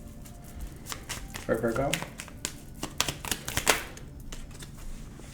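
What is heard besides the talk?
fortune cards being shuffled and pulled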